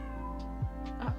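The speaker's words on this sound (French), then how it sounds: "Je comprends pas son miaou là." A cat lets out two short, low meows about half a second apart, close by, over a steady background hum.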